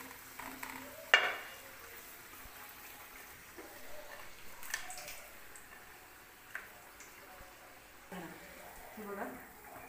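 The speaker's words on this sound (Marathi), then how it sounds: "व्यवस्थित भाजू द्यायची आपल्याला पुरीला" A puri fries in hot oil, giving a faint, steady sizzle with occasional crackles and ticks, a few clinks of utensils, and someone speaking over it.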